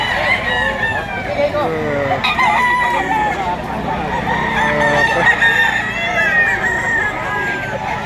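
Bullstag rooster crowing repeatedly amid a busy live-bird market, its calls rising over other fowl clucking and crowing nearby, with steady background chatter throughout.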